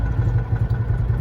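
A Citroen 2CV engine with a single barrel carburetor runs off the throttle with the choke in, holding a low, even idle with a steady throbbing pulse and light mechanical clatter.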